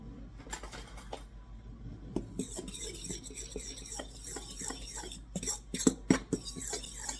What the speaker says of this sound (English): we need just a little dash of salt, and then we're going to also pre-mix this up